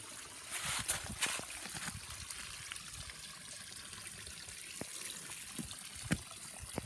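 Water carrying a white substance pours steadily out of an opening, a faint and continuous trickling flow broken by occasional soft splashes and knocks.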